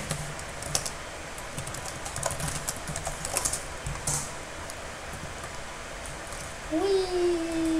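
Rapid, clicky keystrokes on a computer keyboard, typed close by in irregular bursts, with a steady electronic tone coming in near the end.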